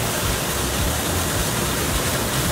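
Floodwater pours down inside a flooded house, making a loud, constant, dense roar like a waterfall, close by with no pause.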